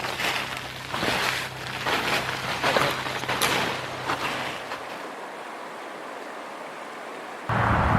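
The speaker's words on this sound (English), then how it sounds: "You can hear the water stream." A water stream rushes near a frozen lake in the wild, a loud broadband wash with gusty surges that drops to a quieter hiss partway through before swelling back up at the end.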